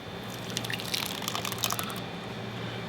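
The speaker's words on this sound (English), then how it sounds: "I mix it into my dry ingredients." Wet ingredients for coconut bread pour into a bowl of dry ingredients, a steady close liquid splash and trickle lasting about two seconds before tapering off, with no talking.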